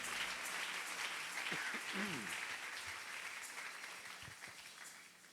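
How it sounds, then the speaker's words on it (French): A church congregation applauds together, a continuous bright wash of clapping that holds steady and slowly fades, with a few faint voices and thumps beneath. "On acclame encore le Seigneur."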